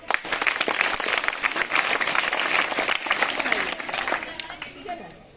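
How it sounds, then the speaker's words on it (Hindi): School students burst into dense, lively applause that fills the room, fading out near the end, while voices carry faintly beneath the clapping. "ताली बजाओ उसके लिए।"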